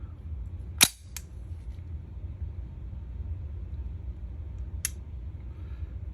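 Ruger Mark II Government Target pistol trigger resetting, with a sharp close click followed by a fainter second click, and another single click a few seconds later over a low steady rumble.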